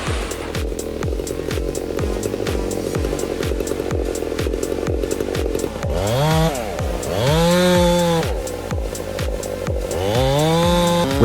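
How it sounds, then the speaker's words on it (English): Chainsaw cutting into a cedar tree during logging work, a loud continuous engine roar that surges and dips as the blade bites, with rising revving sweeps near the end; close and steady, no talking. "With the chainsaw roaring,"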